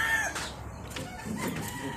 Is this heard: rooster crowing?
yes